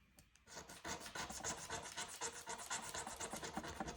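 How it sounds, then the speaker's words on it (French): A scratch card being scratched off, a steady run of rapid, close, rasping scrapes that carries on without a break for several seconds, with no talking over it. "on va gratter une autre carte"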